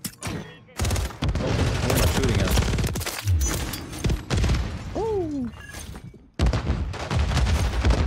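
Call of Duty Modern Warfare 3 gunfire crackles in repeated bursts and single shots throughout, with a player talking over the shooting.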